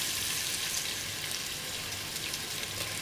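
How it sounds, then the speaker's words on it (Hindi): Chopped onions tipped into hot oil in a pressure cooker sizzle with a steady, even hiss that holds at one level throughout, close up and with no talking. "अब मैं इसमें ये प्याज डालूँगी।"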